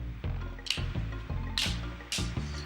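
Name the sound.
drinking a swig of water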